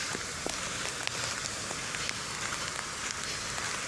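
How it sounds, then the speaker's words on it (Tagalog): Steady rain falls in a dense patter by Manila Bay, with scattered sharper drops ticking through the constant hiss. No voices are heard. "It's raining today"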